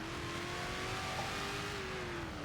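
A Dodge Demon accelerates hard, its engine note holding a steady, slowly shifting whine over a dense roar that stays loud and unbroken throughout.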